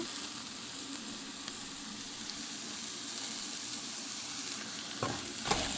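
Ivy gourd (dondakaya) fry with coriander sizzles steadily in a pan, a soft continuous frying hiss broken by a couple of scraping stirs near the end, close and fairly quiet.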